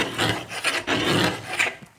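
Rough scraping strokes rasp against a hard surface as paint is scratched off laminate, several repeated passes close by, loud and gritty, fading out at the end.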